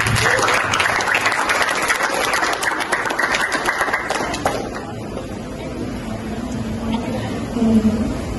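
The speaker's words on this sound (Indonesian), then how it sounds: "Teman-teman mungkin bisa memberikan tepuk tangan." Audience members at a digital-age leadership training session clap loudly for about four seconds, then the applause cuts off and leaves room murmur and faint movement sounds.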